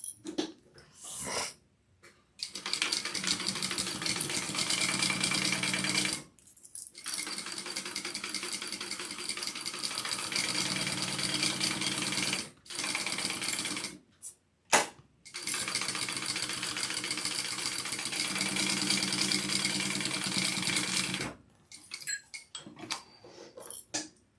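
Sewing machine basting a slip pocket piece runs in several long bursts of steady whirring stitching, separated by short pauses and handling noises, fairly close with no speech.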